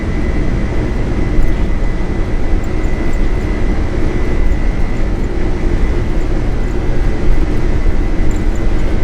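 A 34-year-old Boeing 747-200 at takeoff thrust, its engines giving a loud, steady, broadband roar from the cockpit throughout.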